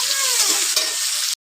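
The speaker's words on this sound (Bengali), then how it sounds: "সেই আলুটা দিয়ে দিলাম, দিয়ে খুব ভালো করে ভেজে নেব আলু আর পেঁয়াজটা" Potatoes and onions fry in a pan while being stirred, a steady loud sizzle with scraping strokes that stops abruptly near the end.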